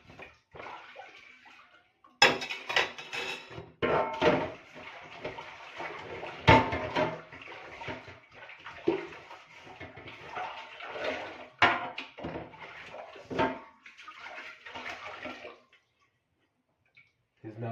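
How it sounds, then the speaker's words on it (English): A sufriya cooking pot is washed with water in a village kitchen. Splashing, sloshing bursts come in uneven waves with some clanks of the pot, all close, and the sound stops near the end. "I'm washing the sufriya."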